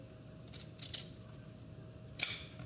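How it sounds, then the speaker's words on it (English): Scissors snip through the fabric facing of a suit jacket, with a few soft separate cuts and then one sharper, louder snip near the end. The room is otherwise quiet. "take your scissors and you are going to snip on the facing only down that line to that point"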